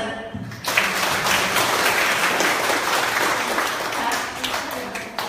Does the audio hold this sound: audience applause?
yes